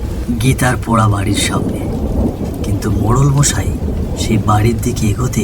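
Steady rain pours and thunder rumbles as an effect in a Bengali village ghost story set on a rainy night. The storm stays loud and continuous beneath a narrator's voice.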